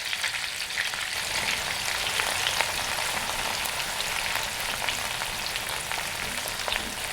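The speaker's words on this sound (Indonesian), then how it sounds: "Sekarang kita lanjutkan untuk menggoreng terinya ya." Anchovies (teri) fry in hot oil with a steady, loud crackling sizzle and scattered sharp pops throughout, close up and with no talking.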